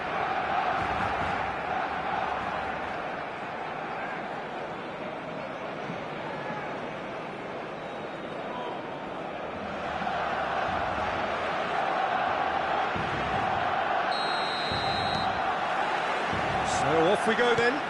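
Stadium crowd of football fans in a video game produces a continuous roaring, murmuring bed of noise, swelling slightly near the end, while a commentator talks over it throughout.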